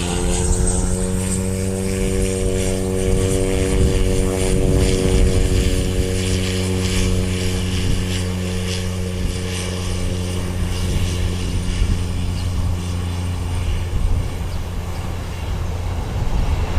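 A Caravan 208 propeller aircraft bound for Picton at Wellington Airport gives off a loud, steady propeller drone with a strong tonal hum that holds for the whole stretch, with no talk over it.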